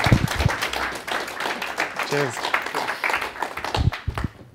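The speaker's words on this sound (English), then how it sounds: "Please give him a welcoming round of applause." A welcoming round of applause for a speaker taking the stage at a philosophy talk: scattered hand claps mixed with voices and a brief cheer, crowd noise continuing for several seconds.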